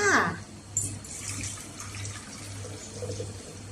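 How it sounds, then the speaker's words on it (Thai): Hot water is poured into a glass bottle, a faint liquid trickle and splash with a low steady hum behind it, and someone speaks at the start. "ให้เราเทน้ำร้อนนะคะ ใส่ในขวดแก้วแบบนี้เลยค่ะ"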